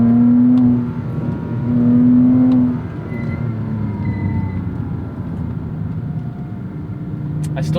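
A Porsche Cayman S 987 engine revs up and settles while the car double-clutches into first, a droning howl heard from inside the cabin that rises and eases over several seconds.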